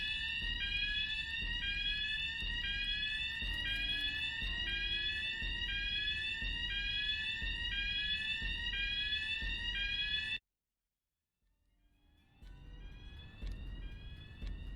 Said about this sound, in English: unfortunately, we're gonna activate the fire alarm